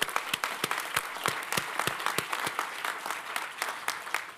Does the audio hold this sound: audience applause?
yes